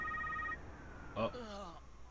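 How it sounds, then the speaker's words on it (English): A phone ringing inside the Spider-Man: Web of Shadows video game, a steady electronic trill that sounds for about half a second, followed by a short burst of game sound and a voice talking. "My phone is ringing."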